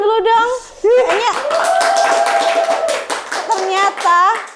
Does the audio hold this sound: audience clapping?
yes